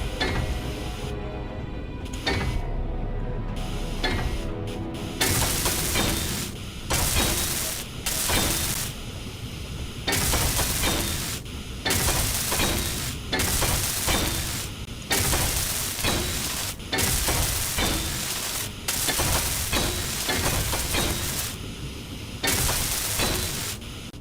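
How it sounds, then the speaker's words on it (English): Bursts of harsh, crackling welding noise as rails are welded in Space Engineers, repeating in steady on-off pulses for about twenty seconds, loud and close with no talking. "Get these last few rails welded up."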